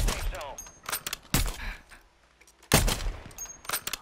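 Sniper rifle shots in a battle-royale video game, a few sharp loud cracks spaced far apart, with quieter gaps and background game sounds between them.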